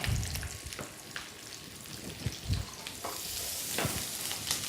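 Beef fillet sizzles steadily in a pan as it is basted, a constant frying hiss broken by occasional spoon scrapes and stirring knocks, close and clear with no talking.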